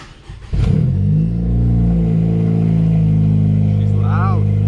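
A straight-piped 2021 Honda Civic FK7 hatchback with Skunk2 parts fires up with a sudden loud bark, then settles into a raspy, close idle with a brief rev blip near the end.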